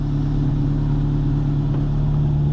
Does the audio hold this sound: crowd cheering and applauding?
no